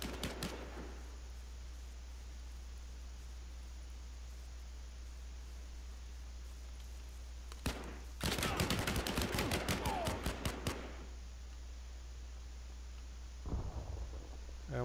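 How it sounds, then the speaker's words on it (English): Bursts of gunfire in the shooter game Last Man Standing: a dense, rapid volley of shots rattles for about two seconds midway, with a brief crack earlier and another short burst near the end, all over steady background noise. "Someone's shooting me."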